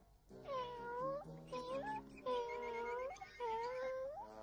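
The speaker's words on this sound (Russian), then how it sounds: "Канарейка начинает мяукать, как котенок." Canary in a Tom and Jerry cartoon meowing like a kitten: a series of high, wavering mews with rising and falling pitch, loud and close, in several bursts with short pauses between them.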